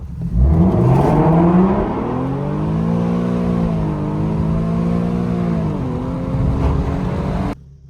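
Tuned Infiniti Q car accelerating from 0 to 60, the engine note climbing through gear changes in a loud close rising drone, then cutting off abruptly at the end, with no talking.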